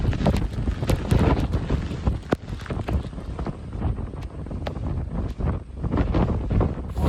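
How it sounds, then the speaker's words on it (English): Strong outdoor wind gusting hard at an off-grid cabin ahead of rain, buffeting the microphone with loud, steady roaring rushes and sharp knocks throughout. "It blew off our screens. Yeah. That was a good old wind."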